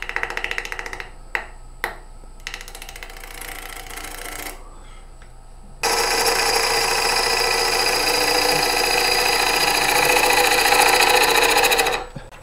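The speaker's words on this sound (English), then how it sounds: "I'm actually going to make a push cut across that and try to clean that up first" A wood lathe spins a nut-embedded live edge bowl, with a few sharp clicks and a quieter stretch before a steady, loud gouge push cut grinds across the wood for about six seconds, then stops.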